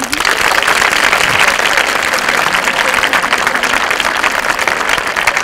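Sustained, dense applause from an audience at a CPR training camp held at a school, loud and steady throughout with no break in the clapping.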